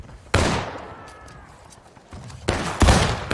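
Rifle volleys crash out in War of Rights, a Civil War multiplayer game, with two sharp bursts of massed musket fire at the start and near the end and faint voices shouting in between.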